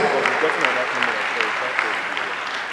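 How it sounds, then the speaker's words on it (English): Audience applause for an event team at a political leaders forum, a steady crowd of clapping hands with voices mixed in over the top. "Can you please help me give them a big round of applause and celebrate them?"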